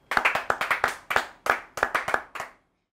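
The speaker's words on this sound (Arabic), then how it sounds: "تصفيقة" Hands clap in quick irregular bursts, about a dozen sharp slaps in short clusters, close and fairly loud, with no talk over them, then silence at the end.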